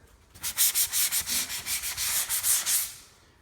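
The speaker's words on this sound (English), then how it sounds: "knock it down a little bit with your sanding block. There's another prime example. Sanding pole just slid right over it." Drywall being sanded with a sanding pole: a steady series of rhythmic, raspy strokes, close and fairly loud, about a dozen passes in quick succession, with no talking.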